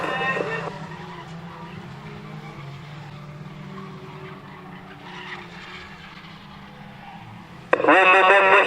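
Race cars roaring around the oval at Standlake Arena, a sustained engine drone under a commentator's voice, ending in a sudden loud burst as a car passes close by.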